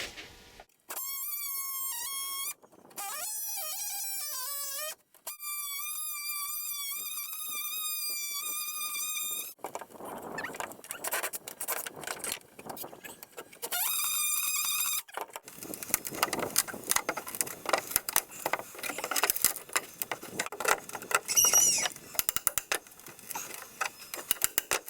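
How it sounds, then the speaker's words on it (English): Oscillating multi-tool cutting a deck board, several close high-pitched whining bursts that start and stop, followed by rougher intermittent buzzing and scraping as the blade works through the wood. "Now I'm going to take my multi-tool."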